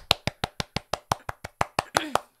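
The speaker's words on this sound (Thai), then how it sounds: "ปรบมือเองไม่มีเอฟเฟก" A single person clapping hands with no added effect, about a dozen sharp, close claps in an even, quick rhythm, a brief voice slipping in near the end.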